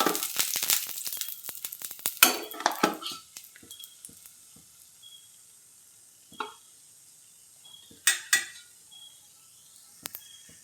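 Oil in a kadai sizzles as a besan pola (gram-flour pancake) cooks: a crackling burst at first, then a soft, faint sizzle broken by occasional sharp scrapes and clinks of a metal spatula against the pan.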